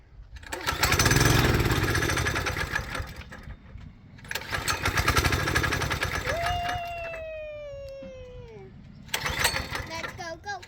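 A small engine revving in loud bursts as throttle is given, roaring, dropping off, then surging again, with a voice talking over it and a rising whine partway through.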